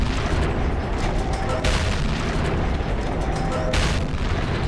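Tank guns firing in World of Tanks, a Waffenträger auf E-100 on the Kolobanov's map: dense, loud rumbling battle noise with two sharp booming shots standing out, one early and one later.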